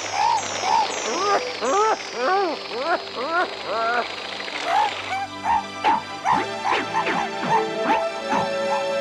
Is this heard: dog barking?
yes